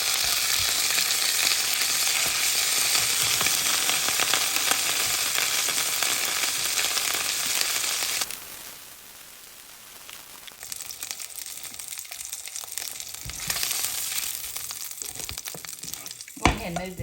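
Patty melt ingredients sizzle loudly in a hot pan while caramelizing, a dense steady frying hiss that dips briefly midway and then resumes with occasional stirring scrapes and a sharp knock near the end.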